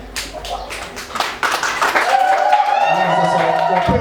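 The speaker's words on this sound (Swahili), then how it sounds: "Makofi mengi kwa kama mke wako." Guests at a church wedding service clapping in scattered, uneven bursts, soon joined by a loud, sustained ululating trill that carries over the applause to the end.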